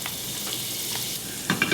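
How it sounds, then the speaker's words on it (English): Two tablespoons of butter melt and sizzle in a turned-down pan beside browning sausages, a steady close hiss with a few sharp pops and spatters near the end and no voices. "I'm going to add 2 tablespoons of butter."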